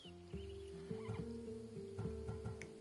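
In an Assassin's Creed game, a Macedonian warhorse bred for battle lets out a close, loud neigh with a wavering whinny, alone and without talk.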